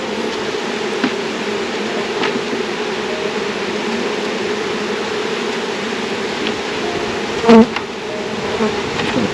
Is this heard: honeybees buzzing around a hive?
yes